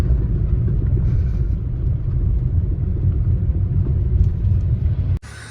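A 2014 Maruti Suzuki WagonR in tip-top, first-owner condition idles close by, a steady low rumble that holds evenly for several seconds before cutting off abruptly near the end.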